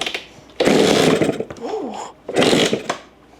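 Mini supermoto dirt bike engine turning over with the choke on, two loud raspy cranking bursts separated by a short pause, close to the listener.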